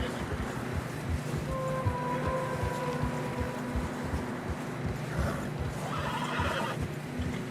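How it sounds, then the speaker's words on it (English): Horses in Red Dead Redemption 2 whinny over steady clip-clopping hooves struggling through fresh snow on a narrow path, with a windy outdoor rumble and a second neigh later on. "Horses are struggling"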